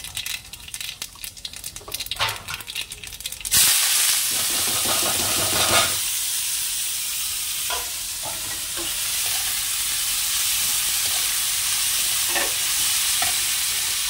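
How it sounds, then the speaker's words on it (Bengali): Chopped potato and green chilli with nigella seeds dropped into hot oil: a soft stirring clatter gives way to a sudden loud, continuous sizzle, with occasional scraping stirs. "এবার এটা এই যে তেলটা গরম হয়ে গেছে, এটাকেও ভেজে নেবো।"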